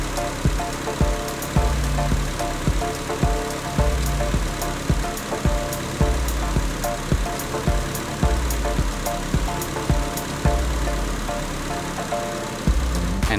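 A Nissan Silvia engine idles steadily while its brake pedal is pumped repeatedly, producing a regular series of sharp clunks and knocks roughly every second over the low, continuous engine hum.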